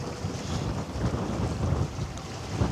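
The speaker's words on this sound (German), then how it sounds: "der Wind, der jetzt gerade hier aufzieht, stand so nicht auf dem Plan" Wind picks up at a ship harbor at night, a steady rushing roar buffeting the microphone, loud and continuous without letting up.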